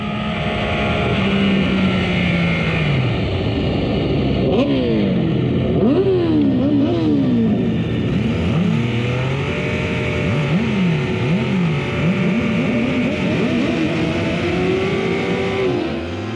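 Race cars launch off the grid at the start of a GTU race in a 2020 BFR round, engines loud and continuous from close in the car, revving up and shifting through gears repeatedly.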